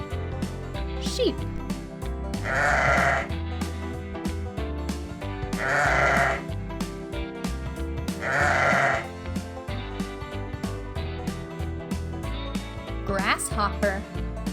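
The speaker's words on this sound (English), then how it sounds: "Sheep." A sheep bleats three times at regular intervals, each call a drawn-out wavering cry, loud and near over cheerful background music.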